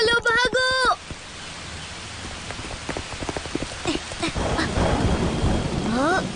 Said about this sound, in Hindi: हाँ, बिजली कड़क रही है।